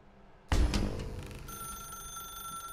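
A telephone in the video game The Stanley Parable starts ringing abruptly after a brief quiet lead-in, a bright bell tone that sustains and rings on alone at moderate level.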